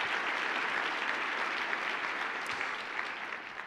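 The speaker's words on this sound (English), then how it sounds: "give ACII a round of applause for that" Audience applause in a lecture hall, dense sustained clapping from a large crowd that gradually tapers off toward the end.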